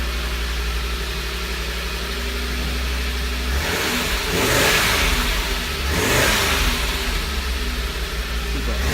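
An Audi 100 CL with a carbureted inline five-cylinder engine idles after a cold start, then revs up twice in strong bursts before dropping back to a steady idle, heard close and loud.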